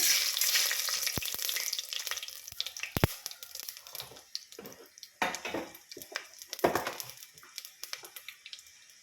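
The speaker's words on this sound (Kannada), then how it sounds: "ಎಣ್ಣೆ ಕಾದಿದೆ ಸಾಸಿವೆ ಕಡಲೆಬೇಳೆ" Mustard seeds and chana dal crackle and sizzle in hot oil for tempering, close and continuous with sharp pops and occasional stirring clinks.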